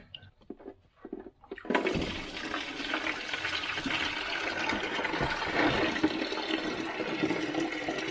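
Water gushes from the oil pan of a FJ40 Toyota Land Cruiser with a seized engine, a few faint drips and knocks first, then a sudden, continuous splashing pour that runs steadily to the end.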